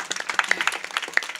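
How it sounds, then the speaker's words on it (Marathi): A kirtan audience claps in a brief burst of quick, uneven hand claps, close and lively, lasting only a moment. "ह्यांच्यासाठी टाळ्या वाजवा."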